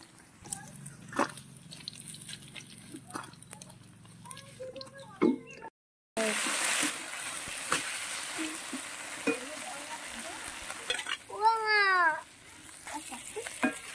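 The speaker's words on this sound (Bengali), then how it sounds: "এই যে পনির ভাজা বসিয়ে দিছি" Paneer pieces fry in oil in a pan on a new village clay stove, giving a steady close sizzle broken by scraping stirs and a few clinks.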